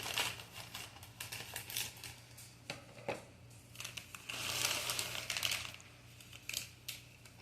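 Scissors snip open a plastic bag of pecan chips with loud crinkling and rustling, several bursts of crackly noise and sharp cuts close to the microphone.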